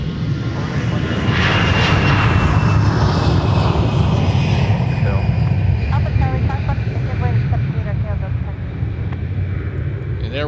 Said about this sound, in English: And there we have Delta 2962 heading out to Washington, D.C., Reagan.